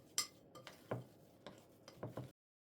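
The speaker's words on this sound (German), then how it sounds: "Der gesamte Teig wird nun nochmal kräftig durchgerührt." A spoon works through thick lentil bread dough in a bowl, a series of soft, irregular scraping and knocking strokes, close and quiet, with no talking.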